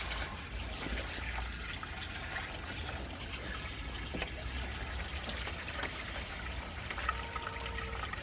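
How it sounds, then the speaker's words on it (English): Water pours steadily into a container of freshly picked comfrey leaves and grass clippings being made into comfrey tea, a continuous soft splashing trickle heard close and alone. "Right, just top it up with water."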